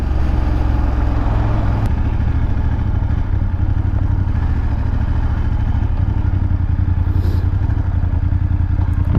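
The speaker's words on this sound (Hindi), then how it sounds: "हार्ली वाला जा रहा है।" A Harley-Davidson motorcycle on a street in Berlin, heard as a loud, steady low engine rumble with a throbbing exhaust pulse, seemingly from a motorcycle rider's own position, continuous and without speech.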